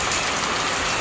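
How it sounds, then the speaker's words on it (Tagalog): Heavy rain pours at night in rural Bicol, a loud, dense, unbroken hiss of downpour drumming on surfaces with no voices. "Ang lakas ng ulan."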